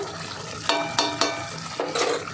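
A spiced dish with garam masala being stirred in a pan: soft scraping and light sizzling under several distinct scrapes of the utensil against the pan.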